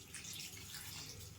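Water poured into a cooking pan of baby corn, a steady splashing stream running alone and close for the whole moment.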